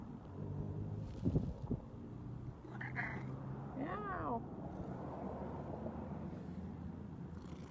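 A cat lets out a drawn-out meow over a low background of wind and vehicle hum, with a shorter cry just before it.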